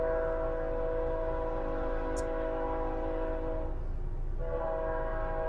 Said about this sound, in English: we now got a train going by.